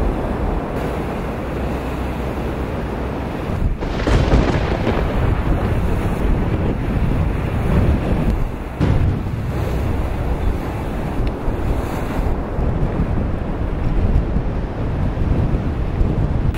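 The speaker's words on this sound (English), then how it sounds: "the angry clouds boiled towards us, accompanied by thunder and lightning" Strong wind and crashing waves buffet a sailing boat at sea during a thunderstorm squall, a loud continuous roar with gusty surges and wind battering the microphone, no voices.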